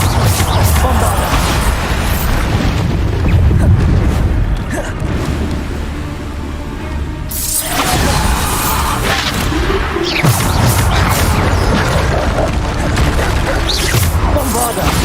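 Repeated Bombarda explosion spells crash and boom in Hogwarts Legacy combat, loud blasts with a brief quieter lull before heavy impacts resume and continue.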